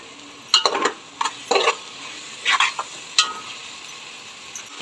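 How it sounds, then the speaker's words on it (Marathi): Vegetables in soy sauce, red chili sauce and tomato ketchup being stirred in a pan, a low sizzle broken by several sharp spatula scrapes and clinks in irregular bursts, close up. "छान प्रकारे सर्व मिक्स करून घेऊया"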